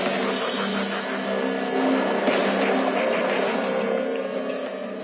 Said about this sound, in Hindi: चल अंदर ले ले गाड़ी को।